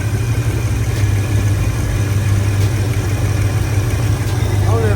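Engine of a Box Chevy with fuel problems idles steadily and loudly up close, a constant low rumbling drone with a slight uneven pulse throughout, no revving.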